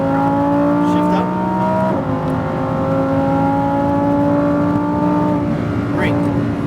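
A Lamborghini Huracan STO accelerates on the Las Vegas speedway, its loud steady engine drone rising in pitch. A brief dip near the two-second mark sounds like a gear change before the pitch climbs again.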